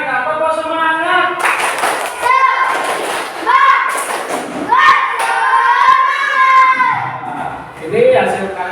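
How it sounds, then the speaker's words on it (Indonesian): A school class joins in a rhythmic spirit clap, children clapping in patterned bursts with thumps, mixed with lively chanting and a teacher's voice throughout. "Ya, semuanya kita tepuk semangat."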